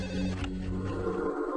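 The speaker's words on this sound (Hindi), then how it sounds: "देर रात आए एक फोन की घंटी ने भोपाल के मुख्य अस्पताल के सीनियर कंसल्टेंट डॉक्टर" A telephone rings late at night in a dramatized scene, a steady ringing tone heard alone, close and moderately loud.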